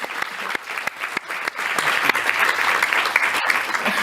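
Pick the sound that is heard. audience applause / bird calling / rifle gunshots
audience applause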